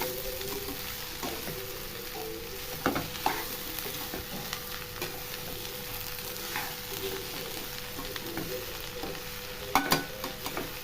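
Amaranth stem stir-fry being stirred in a pan after tempering, a steady low sizzle with scraping spoon strokes and a few sharper clinks against the pan, close and continuous with no talk.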